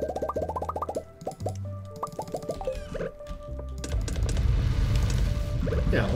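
Eggplants get picked in Stardew Valley, a quick run of short bubbly plopping pops in rising musical steps, repeated in bursts, then giving way to a louder, steady rushing ambience.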